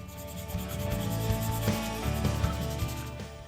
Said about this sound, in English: got to go 220, then 320, then 400, and then all the way down to 600 to get it nice and smooth. Sand, sand, sand.